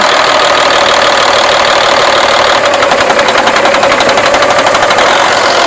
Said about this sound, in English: That was running on just cylinder number 2 and number 5.